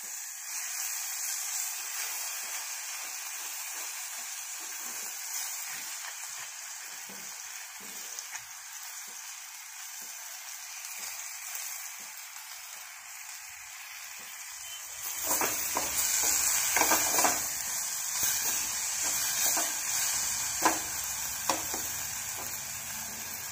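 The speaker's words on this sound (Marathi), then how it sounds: "आता त्याच्यामध्ये आपण ही धुतलेली भाजी टाकूया" Washed vegetable mixed with a spoonful of moth dal hits reddish-browned onion in a pan, a steady frying hiss that swells louder and busier midway with scattered utensil clinks.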